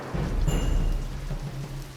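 Rain with low rumbling thunder in the whaling board game Nantucket (Age of Whale), a steady stormy wash with a deep, continuous rumble, fairly close and without voices.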